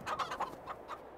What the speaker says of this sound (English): We have our chickens over here